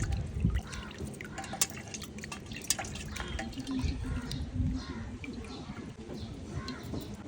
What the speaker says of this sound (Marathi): हळूहळू पाणी टाकून आपण हे धुवून घेऊया